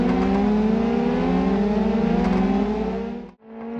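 Race cars in the BeamNG driving game drone past on the Hirochi Speedway oval, a loud sustained engine whine with slowly falling pitch that cuts off abruptly near the end, then resumes briefly.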